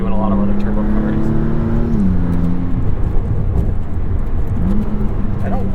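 Turbocharged engine of a 2022 Maserati MC20 accelerating hard, a loud, steady engine drone with rising and falling pitch and boost whoosh, heard from inside the car with a voice talking over it.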